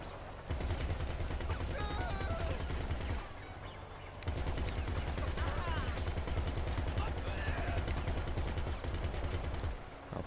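Shotgun gunfire in GTA V, dense loud continuous firing and game action filling most of the stretch with a short lull in between, heavy and close.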